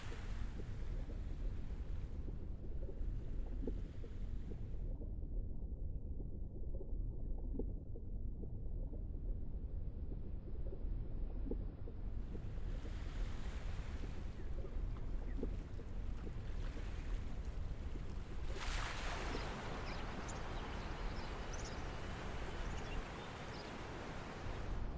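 Soft ocean wave ambience from the Cauldron Chronicles game, a steady wash of surf and wind-like noise that swells and drops in level over about twenty-five seconds, with no voices.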